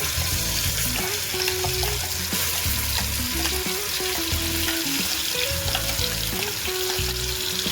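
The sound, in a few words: green chilli masala frying in a pan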